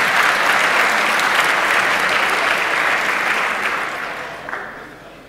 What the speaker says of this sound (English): Give them a round of applause for standing up and being cooperative